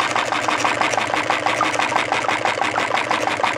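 A homemade Stirling engine drives a diaphragm water pump, making a steady, fast mechanical clatter and whir that runs evenly and close throughout with no talking.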